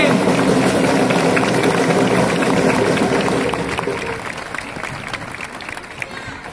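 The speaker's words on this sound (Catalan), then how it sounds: "Un fort aplaudiment!" Applause from an outdoor festival crowd at a giants parade in Sant Joan de Vilatorrada rings out loudly as a dense clatter, gradually thinning and fading toward the end.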